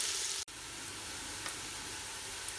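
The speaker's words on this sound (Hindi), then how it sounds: "प्याज हमारी लाल हो गई है और इसमें मैं 2 चमचे दही के शामिल कर रही हूँ।" Fried onions turned red sizzle in oil as spoonfuls of yogurt go in, a soft, steady hiss throughout with a short sharp break early on; no talking.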